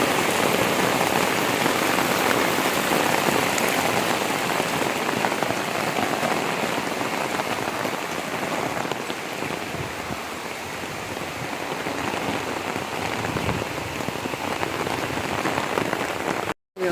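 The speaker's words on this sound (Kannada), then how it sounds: "ಫುಲ್ ಮಳೆ ಮಳೆ ಬಂದು" Heavy rain pouring down steadily on surfaces, a dense, loud, unbroken wash of drops close by for the whole stretch, with no talking.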